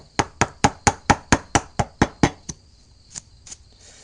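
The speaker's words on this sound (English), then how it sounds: "I'm going to slowly start chiseling the wood out" A chisel struck by a mallet cutting wood out of a tabletop for a butterfly joint, about ten sharp, evenly spaced knocks in quick succession, then a pause and a few lighter taps, close and loud with no talking.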